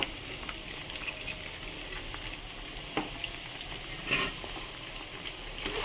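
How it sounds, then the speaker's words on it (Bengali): Masala paste dropping into a hot pan of fried onions for mutton curry, a steady sizzle and frying crackle with a few louder spatters and stirring scrapes. "এবার আমি এর মধ্যে এই পেস্ট করা মশলাটা দিয়ে দেবো"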